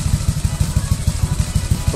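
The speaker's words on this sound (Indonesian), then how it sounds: "Ini suara knalpotnya kayak gini ya guys ya." Honda Vario scooter bored up to 175cc, running a 30 mm BRT throttle body, idles through its aftermarket exhaust with a close, steady, lumpy low-pitched thumping pulse and slight clatter.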